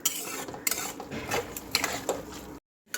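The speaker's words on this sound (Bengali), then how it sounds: "আলুটা ঘেঁটে দেওয়ার পর ভালো করে নেড়ে চেড়ে দেবো" A utensil stirring cabbage and potato curry in a pan, a few quick metallic scrapes and clinks against the pan at close range, unaccompanied by talk, ending in a brief silence.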